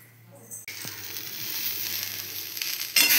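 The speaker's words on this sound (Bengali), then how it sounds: "এই যে ভেন্ডি রান্না হচ্ছে," Okra (bhindi) sizzles steadily in a hot pan after a quiet start, with the frying hiss building and swelling louder near the end; a faint voice may be present underneath.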